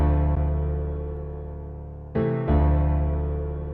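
A simple piano part plays alone as a beat element, sustained chords ringing and slowly decaying, with fresh chord strikes just after the two-second mark and again shortly after, clear and close with no other instruments.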